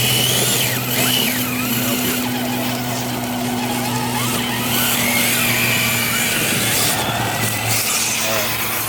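Steady electric whine of an RC car's winch motor slowly reeling in, close and continuous for several seconds with a constant hum beneath a faint outdoor backdrop.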